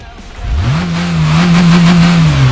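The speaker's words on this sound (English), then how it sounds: "Rock and roll is the sound of a 642 horsepower engine revving so loudly" A 642 horsepower car engine revving in the video game Gran Turismo 5, loud and close, rising quickly then holding a high steady drone.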